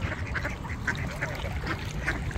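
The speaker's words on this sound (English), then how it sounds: "They're quacking away." Ducks at a lakeside duck sanctuary give scattered, repeated quacks at moderate distance over a steady outdoor background.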